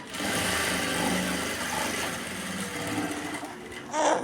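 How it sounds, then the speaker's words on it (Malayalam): A sewing machine stitches along the top edge of a cloth bag, running as a steady close mechanical whir for several seconds with a brief louder surge near the end. "മുകളിലൂടെ ആയിട്ടൊന്ന് സ്റ്റിച്ച് ചെയ്ത് കൊടുക്കുക"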